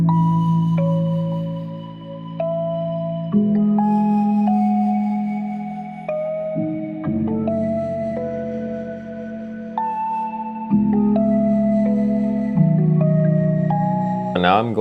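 A lofi hip hop beat plays steadily, with mellow keys and bass shifting through chord changes every couple of seconds over a soft, muffled groove, close and full, with no talking.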